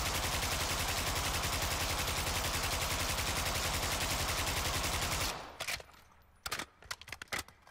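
Automatic weapon fired during a recoil test in Modern Warfare II DMZ: one long, loud, rapid-fire burst lasting about five seconds stops abruptly, then a few short scattered shots and clicks follow.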